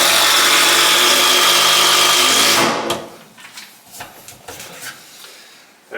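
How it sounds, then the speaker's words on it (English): An impact driver or drill runs hard, sinking a HeadLok screw into a wooden bar wall frame, a loud continuous whir for nearly three seconds before stopping abruptly, followed by quieter scattered clicks and handling knocks. "I'm just going to take one of those headlock screws and just tack that guy in"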